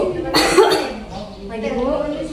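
A patient coughs during an effective cough exercise in a clinical setting, one strong close cough burst followed by a softer throat sound, with a caregiver's voice coaching over it.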